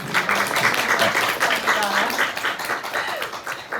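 An audience at a museum talk applauds the speaker at the close of the event, continuous clapping with voices mixed in throughout.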